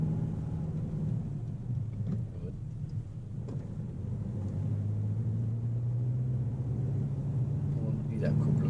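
A manual driving-school car in the Ruhr area rumbles low inside the cabin, its engine note rising and holding steady after the clutch, with voices talking over it.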